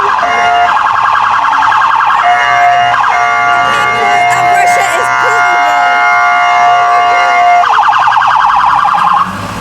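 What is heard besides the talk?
police car siren passing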